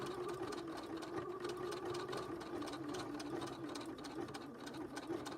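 A sewing machine stitches a pocket onto a small zippered purse with hearts fabric, a steady, even mechanical whir running continuously at a low, close level with no talking.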